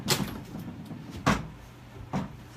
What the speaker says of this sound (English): Check the drawer.